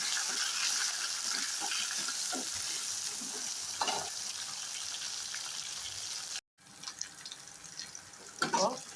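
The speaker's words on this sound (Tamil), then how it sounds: "வெங்காயத்தை சேர்த்துக்கலாங்க இதையும் நல்லா எண்ணெயில் வதக்குங்க" Onions sauté in hot oil for a garlic kuzhambu, a continuous close sizzle with occasional stirring scrapes, briefly cut to silence, then the sizzle and stirring resume.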